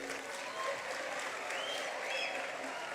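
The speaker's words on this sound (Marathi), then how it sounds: "जोरदार टाळ्या झाल्या पाहिजे मित्रांनो ग्रैंड मास्टर दिव्या देशमुख" Audience applause for grandmaster Divya Deshmukh at a Maharashtra government felicitation in Nagpur, a steady, dense clapping from a crowd that holds evenly for about three seconds, with faint voices mixed in.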